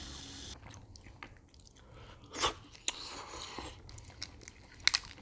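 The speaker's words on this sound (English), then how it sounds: "So, since we're eating crab," Close, quiet eating of Dungeness crab meat from a seafood boil, with soft chewing and a few sharper bites and crunches scattered irregularly over a faint background.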